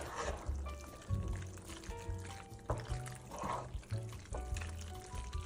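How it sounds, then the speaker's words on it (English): Thick, gooey stirring of cooked macaroni noodles folded into cheese sauce, with wet squelching and sloshing sounds continuing steadily up close, no talking. "mixing the noodles and the cheese sauce together"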